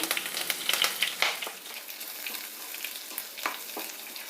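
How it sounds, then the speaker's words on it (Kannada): Mustard seeds, urad and chana dal, ginger and curry leaves hit hot oil in a pan, giving a close, bright crackling sizzle with a few sharp spatters early that settle into a softer, steady hiss. "ಎಣ್ಣೆ ಬಿಸಿಯಾಗಿದೆ ಸಾಸಿವೆ ಹಾಕ್ತಾ ಇದ್ದೀನಿ ಉದ್ದಿನಬೇಳೆ ಕಡಲೆಬೇಳೆ ಮಿಕ್ಸ್ ಮಾಡಿರೋದು ಶುಂಠಿ ಕರಿಬೇವಿನ ಸೊಪ್ಪು"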